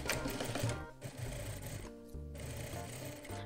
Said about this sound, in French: Et je vais commencer à coudre